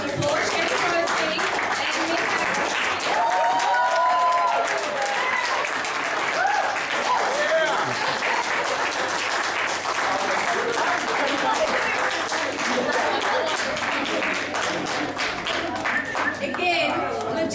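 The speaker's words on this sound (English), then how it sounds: "Give them a big round of applause." Audience applause at the closing ceremony of the 2017 African Diaspora Women Summit: a dense, sustained wall of clapping from a large crowd, steady throughout, with cheering voices mixed in.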